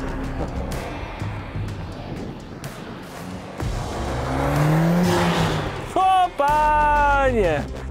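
A Ferrari and a Mercedes A45S AMG racing on a circuit: engines roar and rise in pitch as cars accelerate and sweep past, with a sharp rising rev near the end, under excited shouting and talk.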